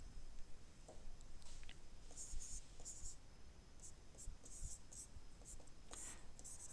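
Faint pen-on-paper writing by hand, with soft scratchy strokes in short irregular bursts. It sits close against a quiet background, and a voice murmurs lightly now and then.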